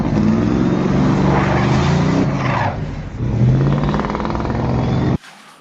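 A drag car with leaf-spring rear suspension launches under hard power. Its engine roars loud and close, dips for a moment, then surges again before cutting off abruptly.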